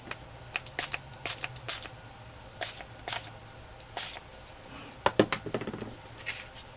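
Light bursts of homemade shimmer food-coloring spray hiss from a pump bottle, about a dozen short spritzes in an uneven rhythm, close and crisp over a quiet room.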